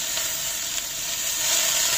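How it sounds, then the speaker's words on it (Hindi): Mixed vegetables stir-frying on a high flame in a pan: a steady, close hiss and sizzle that rises slightly toward the end, with faint scraping from constant stirring. "हाई फ्लेम रखेंगे हम और लगातार इनको चलाते हुए हम कुक करेंगे"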